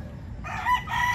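A big gamecock, a Filipino fighting rooster that has already won a derby, gives a short crow at close range, one brief raspy call over low background noise.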